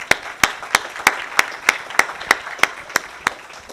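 A small audience at a council meeting gives a round of applause for Eagle Scouts in the room, heard as a sparse, evenly spaced run of about twelve sharp, close claps rather than a dense ovation.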